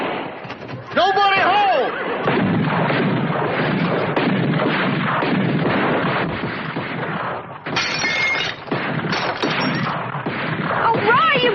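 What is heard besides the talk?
gunfire in a shootout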